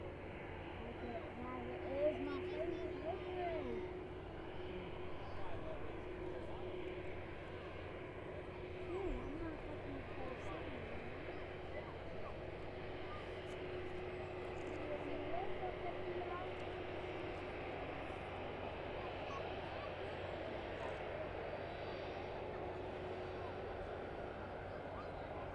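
A West Atlantic cargo aircraft arrives at East Midlands Airport in the evening. Its engines make a low, steady, distant rumble, and someone talks over it the whole time.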